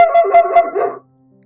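A dog in France gives a short string of loud, close barks and howl-like yips, then falls silent for the rest of the moment.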